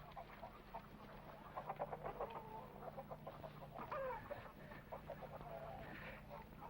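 Chickens carried in a truck cluck and cackle in quick bursts, fairly faint over a low engine-like hum, with no talk.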